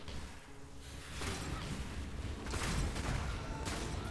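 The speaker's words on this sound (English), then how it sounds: "You see those explosions, man. It's just so juicy." Muffled, rumbling bursts of explosions from Path of Exile roll in quick succession, fairly quiet and without any talking.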